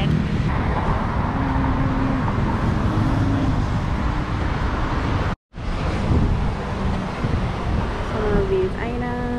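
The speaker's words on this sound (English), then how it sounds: "It is really noisy in the background because of the street and the traffic." Constant roar of street traffic beside an outdoor thrift market in Bangkok, with passing engines, wind buffeting the microphone and a brief dropout midway, plus faint voices in the background.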